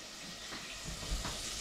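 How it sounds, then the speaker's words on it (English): Chicken frying in a pan during home meal preparation, giving a steady, soft hiss and sizzle with faint crackles throughout, fairly quiet and unbroken, with no voices. "I'm still frying the chicken"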